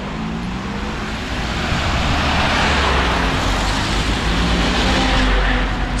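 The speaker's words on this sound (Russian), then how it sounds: "Сплошной поток машин." Dense city traffic jam with a steady stream of cars rumbling past, a continuous loud wash of engine and tire noise with deeper vehicle drones, no voices.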